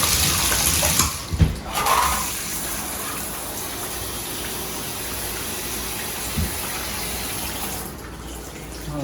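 Water runs steadily from the shower of a 1960s two-handle American Standard tub/shower valve, a close, continuous hiss of spray with a few brief knocks and no talk.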